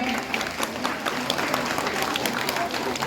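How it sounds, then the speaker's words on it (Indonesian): An audience claps together in dense, continuous applause, loud and close, with a voice speaking over it. "Kita beri tepuk tangan buat kita semuanya"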